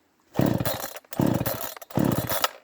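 A Radley 52cc chainsaw with a 20-inch bar fails to start on the pull cord, giving three close bursts of rasping cranking and sputtering, each about half a second long, with short pauses between them.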